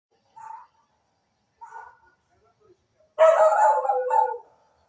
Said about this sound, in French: Le chien dérange, c'est parce qu'il y a des voisins qui passent.